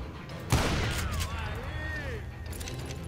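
Gunfire rings out from above in the western shooter Call of Juarez: Gunslinger, starting with a sharp close burst followed by a steady roll of shots and echoing game noise.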